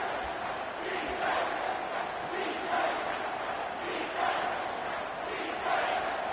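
A packed football stadium crowd roars in a sustained, swelling wave of cheering and shouting as the home defense faces a goal-to-go situation, with no single voice standing out.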